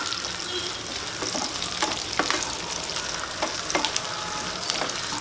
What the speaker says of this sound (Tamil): அப்படியே பூண்டை போட்டுக்கோங்க. ரெண்டுத்தையும் நல்லா வதக்கிக்கோங்க.